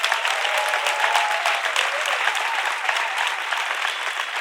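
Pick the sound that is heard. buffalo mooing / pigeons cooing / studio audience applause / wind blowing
studio audience applause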